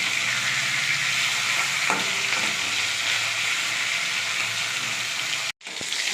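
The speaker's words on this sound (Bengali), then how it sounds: "তো মাথাগুলো একটু ভেজে নেবো।" Catla fish heads fry in hot oil, a steady close sizzle with light stirring and scraping in the pan, continuing evenly before a brief break near the end.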